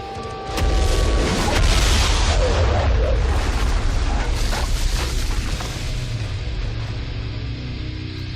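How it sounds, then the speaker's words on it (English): A big, booming explosion effect from the 1995 Mortal Kombat film erupts after a short lead-in and rolls on as a long, loud rumbling roar that slowly fades. "Scorpion explodes in a really obviously terrible explosion effect"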